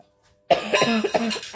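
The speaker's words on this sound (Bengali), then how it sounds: "আবার কাশি হচ্ছে" A person gives a short burst of coughing after a moment of silence, several rough, closely spaced coughs heard up close and alone.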